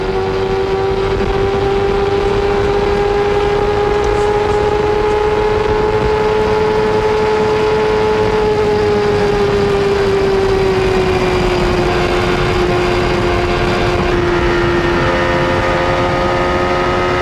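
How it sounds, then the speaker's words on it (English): A steady Indy car engine drone at the 1993 CART Michigan 500 race, with a sustained tonal whine that slowly shifts in pitch, loud and continuous throughout, with no voices. "You can hear the engines running."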